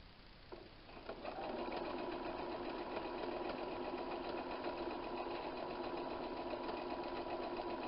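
A sewing machine stitches darts on a 1940s-style apron, starting after a brief quiet moment and then running as a steady, fast, even mechanical whir at close range.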